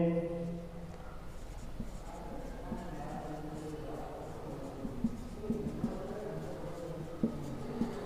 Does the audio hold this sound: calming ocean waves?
no